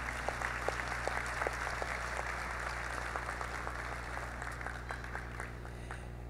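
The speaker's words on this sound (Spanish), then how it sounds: "un fuerte aplauso, por favor" Audience applause at a corporate social responsibility award ceremony, steady scattered clapping at moderate distance over a constant low hum from the hall's sound system.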